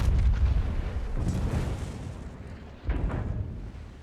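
Naval guns fire HE shells in a World of Warships battle, deep booming salvos with rolling rumble, one heavy blast at the start and another sharp report near the end.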